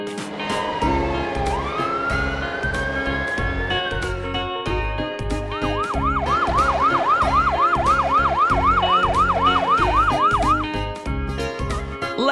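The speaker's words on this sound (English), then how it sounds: "Ambulance." Animated cartoon ambulance siren, first as a rising and falling wail and then as a fast repeating yelp, loud and continuous over a steady background music beat.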